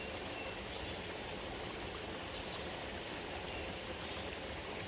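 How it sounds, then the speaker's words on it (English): A creek runs over small, gentle waterfalls and a little water slide, giving a steady, close, even rushing burble that holds without break and with no voices. "this creek goes way on up with a little water slide and more waterfalls, little gentle waterfalls"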